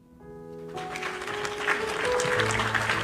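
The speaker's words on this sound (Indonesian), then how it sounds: "Tepuk tangan dulu." Applause from a seminar audience on emotional release, a dense wash of clapping that swells and stays loud and steady through the whole stretch, with tonal hum or music lines beneath.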